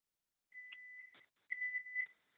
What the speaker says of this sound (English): my timer is just about to go off